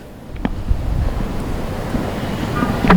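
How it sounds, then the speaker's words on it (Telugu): Strong gusty wind during a heavy hailstorm in Hyderabad: loud, continuous rumbling buffeting of the microphone with rushing noise, swelling near the end, and no clear speech. "ఈదురుగాలు చాలా బీభత్సంగా వీస్తూ ఉన్నాయి"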